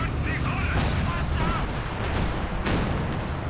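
An ISU-152 self-propelled gun fires in Company of Heroes 2, a heavy booming report and rumbling explosions layered under a commentator's continuous speech.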